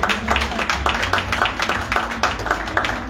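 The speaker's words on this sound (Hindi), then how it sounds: "ताली बजाकर धन्यवाद करो" An audience clapping hands together in thanks, a steady rhythmic burst of close, fairly loud claps repeating at a brisk even pace for a few seconds.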